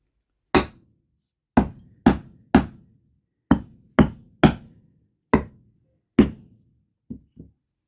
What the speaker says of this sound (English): So I'm going to smash and try to see if I can't get more of the plate off that little rim.